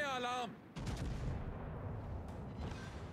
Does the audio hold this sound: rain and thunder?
no